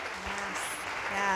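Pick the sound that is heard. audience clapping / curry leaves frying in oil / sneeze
audience clapping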